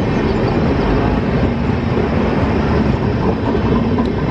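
The Jansadharan Express, a passenger train on the Amritsar–Saharsa route, passes on the rails near Jalandhar City with a loud, close, steady roar of wheels and carriages and no break.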